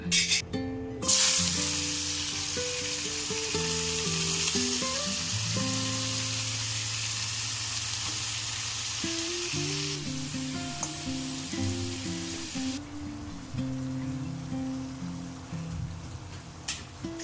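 Paneer cubes fry in a pan after cashews are removed, giving a steady broadband sizzle throughout, with occasional stirring scrapes and light music playing underneath.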